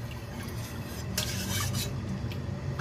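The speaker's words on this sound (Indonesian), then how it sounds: "Kita aduk hingga tercampur rata ya teman-teman." Corn soup being stirred in a pot, a steady soft scraping and swishing of the spoon against the pot, close and continuous with a brief brighter clatter midway, no voices.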